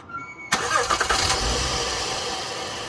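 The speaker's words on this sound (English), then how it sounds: "we're gonna turn the engine over and see if it runs and doesn't leak" An Acura MDX engine cranks and catches with a sharp burst after an oil change, briefly revs, then settles into a steady, loud idle close by.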